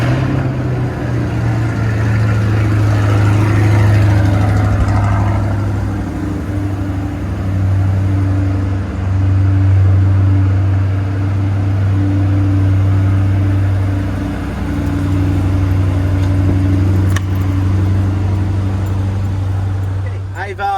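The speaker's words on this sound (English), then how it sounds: "let's start it up using the remote starter" Chevrolet C8 Corvette engine started by remote starter, settling into a steady, loud idle that hums on throughout, with engine noise dominating and no clear talk.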